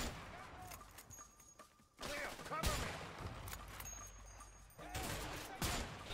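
Sniper rifle shots in the video game A Way Out, a few sharp cracks spaced apart amid game ambience, with a voice talking faintly at times.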